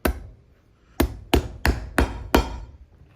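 Hammer driving nails into a boot heel while customizing Iron Ranger boots, five sharp close blows, one alone and then four in quick irregular succession.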